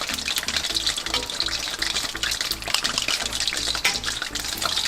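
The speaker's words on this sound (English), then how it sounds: "now the sauce already boiling" Lemon chicken sauce boils hard on a stovetop, a steady loud bubbling and sizzling wash with frequent small pops, continuous and close throughout with no voices.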